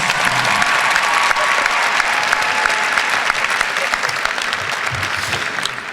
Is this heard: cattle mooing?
no